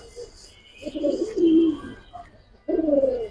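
A male pigeon, kept singly among Giribaz and grizzle pigeons, coos in three throaty, rolling phrases at close range, separated by short quiet gaps.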